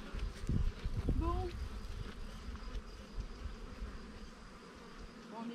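Buckfast honeybees buzz steadily around beehives outdoors, a dense near drone with individual bees passing close, while voices murmur in the background.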